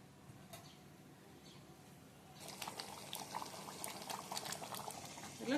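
A pot of quail (kaadai) gravy simmers with added water, quiet at first, then breaking into a dense, close bubbling and popping that grows busier and louder toward the end.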